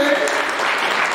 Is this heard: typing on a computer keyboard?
no